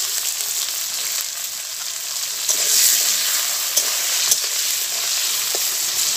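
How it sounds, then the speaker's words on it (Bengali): Salted vegetable stalks fry in hot oil with a bright, steady sizzle close by, broken by a few sharp spatula taps as they are stirred. "ওই তেলেই আমি ডাঁটাগুলো ভেজে নেব।"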